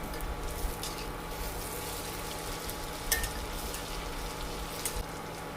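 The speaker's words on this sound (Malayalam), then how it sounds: "ഇത് മറിച്ചും തിരിച്ചു വിട്ട് നന്നായിട്ട് മൂപ്പിച്ചെടുക്കാം" Bread slices deep-frying in hot oil, a soft, steady sizzle and crackle with occasional small pops, fairly quiet and continuous throughout.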